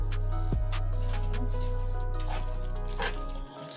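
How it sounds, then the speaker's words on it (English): Water poured into a thick, creamy vegan lemon pasta sauce with angel hair strands, giving a steady close liquid pour with soft drips and splashes that eases off near the end. "Add a little water to this because it's thick."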